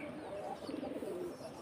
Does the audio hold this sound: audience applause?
no